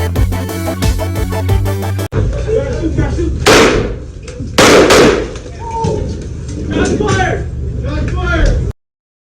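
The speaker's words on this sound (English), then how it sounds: "Shots fired!" Gunshots fired at police inside a station, several loud sharp bangs mixed with shouting voices and chaotic commotion, the blasts close and jarring amid ongoing talk.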